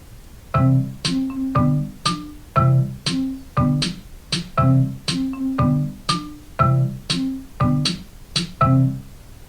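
A steady, repeating boom-tap rhythm alternates a deep thump with a sharper, brighter tap, cycling evenly about nine times at close range with no talking.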